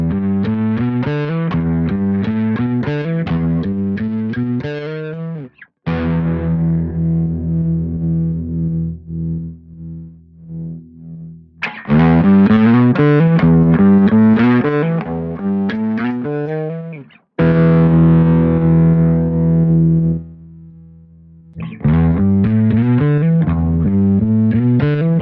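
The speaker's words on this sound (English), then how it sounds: "I'm pushing the level up, I'm pushing the blend up because I just want as much distortion as I can get." A bass guitar played through a B7K distortion pedal with level and blend turned up, loud gritty repeated phrases alternating with long ringing sustained notes, played alone without talk.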